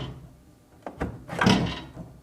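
A GE microwave door is lifted off its bottom hinge, giving a couple of short plastic clicks and a scraping knock, close and brief.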